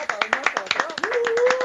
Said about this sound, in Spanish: Oye, un aplauso para todos.